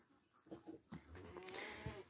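Goats on a farm, including a newborn kid, give several bleats and small cries at close range, while quiet rustling and movement fill the gaps.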